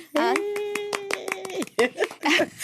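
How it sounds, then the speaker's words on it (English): Two podcast hosts clap their hands in a quick scatter of close, sharp claps while a voice carries on over them. "Why are we even clapping?"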